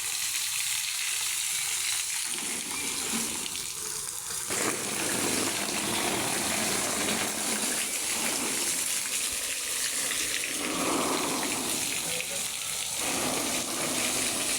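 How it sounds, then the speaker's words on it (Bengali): Motor-pumped water soaking an asbestos roof on a hot day, a steady broad hissing spray and splash that continues throughout, with changes in texture as the flow shifts. "মোটর চালু করে আমার ছেলে জল দিচ্ছে"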